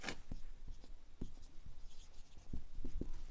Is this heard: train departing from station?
no